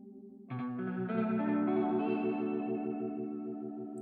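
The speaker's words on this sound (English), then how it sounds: "So that's a variation on the echo." Music run through a delay effect with its variation control raised, giving a thick, wavering, vibrato-like echo that swells in after a quiet start and sustains steadily without any speech.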